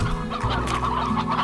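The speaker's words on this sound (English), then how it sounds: "I guess I shouldn't leave this hen here free ranging" Hen clucking in the video game Slime Rancher, a steady run of close, overlapping clucks over a constant game ambience, with no talking.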